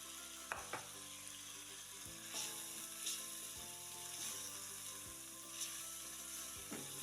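Ginger, bay leaves and cinnamon sizzle in hot oil as the spices for a beef and potato stew are stir-fried in a pan, a steady close frying hiss with occasional utensil scrapes.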